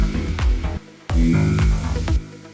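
Melodic synth notes from a progressive sample pack play in short plucky phrases with a delay effect, and each note repeats in fading echoes. There is a brief gap of silence partway through.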